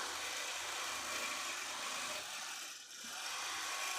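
A long arm quilting machine runs continuously, giving a steady mechanical hum and whir with a brief dip near the end.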